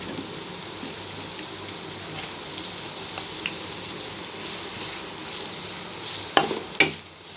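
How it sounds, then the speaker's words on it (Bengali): Chopped onion frying in hot oil in a wok, a steady loud sizzle with a few sharper stirring scrapes near the end, no voices. "এবার আরেকটি কড়াইতে তেল গরম করে পরিমাণ মতো পেঁয়াজ কুচি দিয়ে দিব।"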